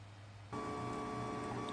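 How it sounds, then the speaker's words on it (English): A 3D printer powers on with an abrupt switch-on, and a steady electrical hum with a whining tone then holds at an even level, close and moderately loud. "you can see that the printer just turned on too"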